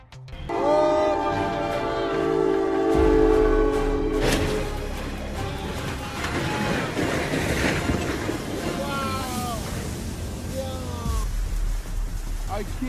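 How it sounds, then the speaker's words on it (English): Train colliding with a stuck tractor trailer carrying heavy equipment at a rail crossing in Redding, California: a loud sustained train horn blast, then rumbling rail noise and crashing, with horn bursts returning later. "A train came into contact with a stuck tractor trailer carrying heavy equipment in Redding, California on October 4th."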